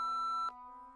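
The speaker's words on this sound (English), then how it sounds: "leave a message at the beep" A steady electronic tone holds, then shifts to a lower sustained tone after a brief click, like a phone beep prompting a message.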